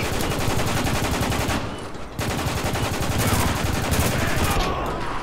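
Heavy gunfire in Spec Ops: The Line, shotgun blasts among dense overlapping shots, loud and near, with a short dip before the firing resumes at full intensity.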